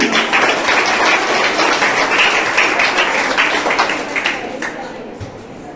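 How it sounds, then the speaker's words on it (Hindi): A school audience applauds winners of a debate competition held for Independence Day, with a steady burst of clapping that tapers off near the end. "इन सब विनर्स के लिए जोरदार तालियां"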